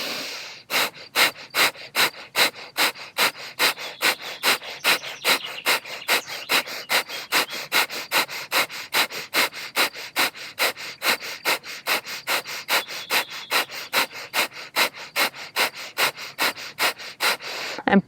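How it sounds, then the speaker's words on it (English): Rapid, forceful fire breath done as a breathing exercise: sharp, even bursts of air pushed through the nose in a fast, unbroken rhythm, close and loud, with no talking. "we will be doing another round of fire breath"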